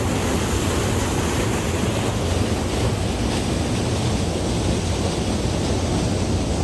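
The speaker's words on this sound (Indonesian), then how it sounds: "Yuk kita lihat air terjun atau waterfall Bukit Buung" The Bukit Buung waterfall, also called Dampul, gives a steady, loud, broadband roar of rushing water that fills the whole stretch without a break, heard up close with no voices.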